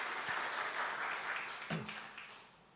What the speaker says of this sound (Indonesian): Beri tepuk tangan lagi buat Tuhan Yesus.